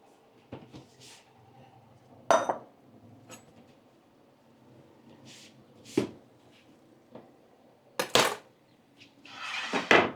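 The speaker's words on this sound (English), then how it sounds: "So now we can chop it up." Goat meat being chopped into chunks on a work surface, sounding as several sharp, separate knocks of a blade striking the board, with quieter clinks between them.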